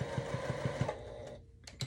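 A sewing machine back stitches across a boxed corner seam, running in a quick, even pulse of stitches for about a second before it stops, followed by a couple of faint clicks.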